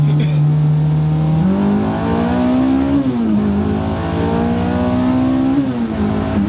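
A supercharged Honda S2000 accelerates hard through its gears, heard loudly from inside the car. The engine note climbs steadily, with distinct shift breaks where the pitch drops before rising again.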